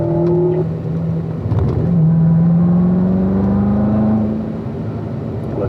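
A race car engine pulls under smooth throttle at the Spring Mountain track, droning steadily and loudly close by as the pitch rises slowly and evenly while it accelerates out of a corner.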